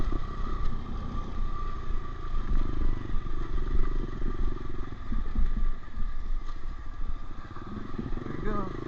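Honda CRF125F dirt bike engine running steadily through a rocky canal-side ride, a continuous close motor drone with wind and rumble throughout; a voice talks over it.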